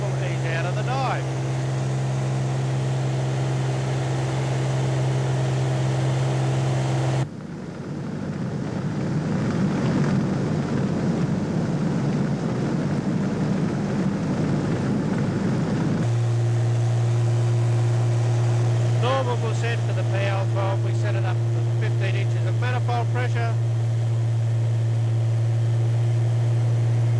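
A PL12 agricultural aircraft with a 300 HP engine drones at full power after a stall recovery, a steady loud engine tone that briefly shifts and roughens midway before resuming, with a voice talking over part of it.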